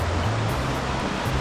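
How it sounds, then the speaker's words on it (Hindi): Fast-flowing mountain river in Barot Valley, a steady broadband rushing roar of water, close and continuous with no voices over it. "देखना यहाँ पे पानी कितना तेज हो रहा"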